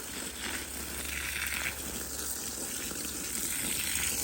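Water pours steadily from a five-gallon bucket into the soil around a transplanted GEM avocado tree, a continuous soft gushing splash with a low hum underneath.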